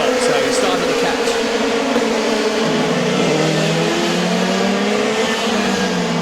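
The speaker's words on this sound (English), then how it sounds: "the noise of the cars as they roar past our commentary position" DTM race cars roar past a commentary position at the Hungaroring in rain-affected racing, a loud sustained engine wail shifting in pitch as cars pass close, with commentary voices talking over it.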